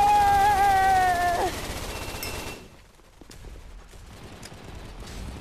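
SMG fire in the shooter game Gun Raiders: a loud, continuous rapid burst, then quieter scattered shots and clatter alone without talk.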